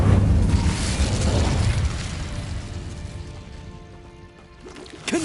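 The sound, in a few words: Incendio fire spell in Hogwarts Legacy video game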